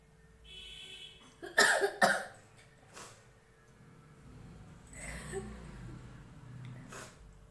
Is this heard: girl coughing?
yes